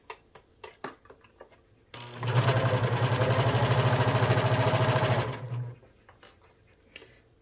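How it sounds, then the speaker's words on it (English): A home sewing machine stitches a ruffle onto a boho top in one steady run of about three and a half seconds, loud and close, with a low motor hum under rapid needle clatter and quiet handling sounds before and after. "Now we're going to sew on the ruffle."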